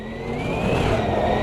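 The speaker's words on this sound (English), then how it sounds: "Now we are driving it again. I wasn't looking, but now I'm driving the AMG" An AMG car's engine revs up steadily in Automobilista 2 at Road America, a loud, close mid-pitched roar rising in pitch over a second and a half, with no talk.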